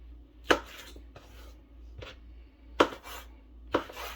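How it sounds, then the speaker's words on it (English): A knife chops smoked sausage into bite-sized pieces, giving four sharp, close cuts spaced irregularly, each with a brief clatter, over a quiet kitchen hum. "I'm just cutting my sausage up into bite-sized pieces"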